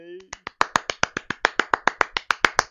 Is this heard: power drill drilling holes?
no